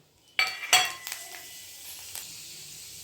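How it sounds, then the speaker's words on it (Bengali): Dry red chilli and fenugreek seeds dropped into hot oil give a sharp burst of sizzling and a clink of utensil against the pan, then the spitting quickly fades to a faint, low fry. "এবার একটা শুকনো লঙ্কা আর মেথি ফোড়নে দিয়ে দিলাম।"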